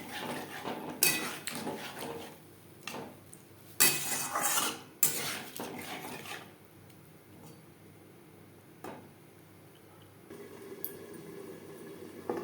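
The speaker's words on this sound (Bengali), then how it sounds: "তিন চার মিনিট মশলার সাথে আলু বেশ ভালো করে কষিয়ে নেব।" Potatoes stir-fried with spices in a pan for a rohu fish jhal curry: repeated metal spatula scrapes and clinks against the pan in irregular bursts, loud at times, with quieter pauses between.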